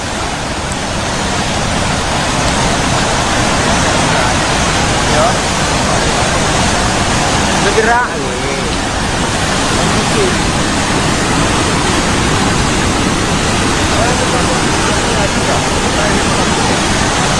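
A swift flood river current in Gayo Lues, where a flood brought down a bridge, roars loud and unbroken like heavy rushing water, with a brief voice breaking through near the middle.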